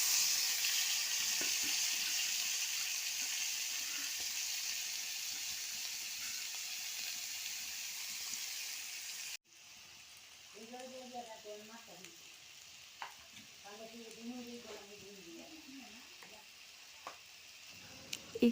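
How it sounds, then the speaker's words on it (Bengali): Pointed gourd seeds and boiled potato fry in oil with a loud, dense, continuous sizzle; after the hiss cuts off, a person speaks over quieter kitchen noise. "ভাজা হয়ে গেলে পটলগুলো তুলে সেই তেলে পটলের বিচি আর সেদ্ধ আলু দিয়ে দেব।"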